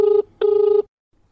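Two electronic telephone rings, a short burst then a longer one, sound close and clear on a line for a radio phone-in farm programme before falling silent.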